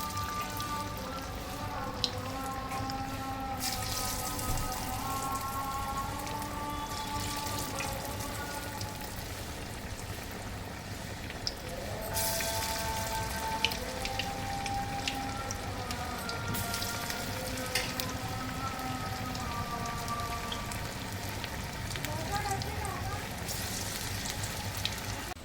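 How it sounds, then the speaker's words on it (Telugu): Vadas frying in hot oil, a steady bubbling sizzle that runs continuously throughout, with a voice speaking over it at times. "ఆయిల్ హీట్ అయిందండి, ఇప్పుడు వడలు వేసుకుందాము."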